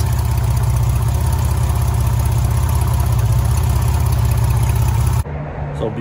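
A TVR Tasmin 280i engine idles steadily and loud after a fuel filter replacement, with a dense low rumble for about five seconds before it cuts to a quieter, lighter idle.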